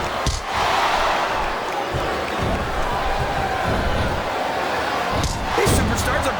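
A video game arena crowd in WWE SVR 2008 roars steadily during a Shane McMahon versus Torrie Wilson match, a constant wash of cheering and hubbub beneath a commentator's voice, with a brief swell near the end.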